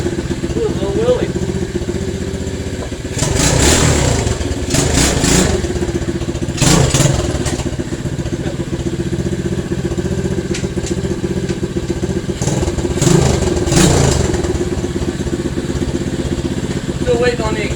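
An SSR 110cc pit bike with a newly installed head and a slight exhaust leak idles roughly and then revs hard in three loud, clattery bursts as it pops a small wheelie.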